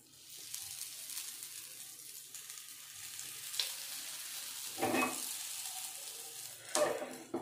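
Alu vadi (colocasia leaf rolls) shallow-frying in a little oil in a home kitchen, giving a soft steady sizzle with a few louder crackling bursts and stirring clatter, with no talk.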